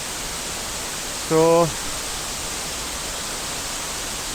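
A waterfall in Meghalaya, India, rushes with a constant, even hiss of falling water, loud and unbroken throughout, while someone briefly says a single word partway through.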